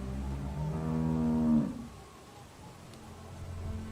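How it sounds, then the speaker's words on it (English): A cow moos in Telltale's The Walking Dead video game, one long, loud, tonal low moo that fades into quieter background ambience, with no talking over it. "How do you like that cow, Clint?"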